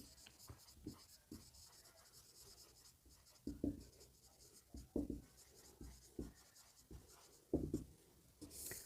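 Chalk or marker writing on a classroom board during a chemistry lesson: a string of short scratchy strokes and taps in irregular rhythm, close and fairly quiet, with no voice.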